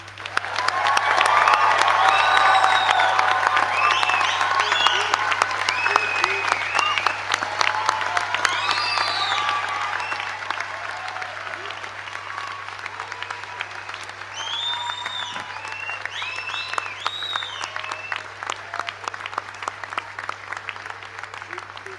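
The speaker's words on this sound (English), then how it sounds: "let's raise the roof with a final round of applause to congratulate our graduates" A large graduation audience at a university degree congregation applauds and cheers loudly and continuously, with whoops rising above the clapping, the applause gradually thinning toward the end.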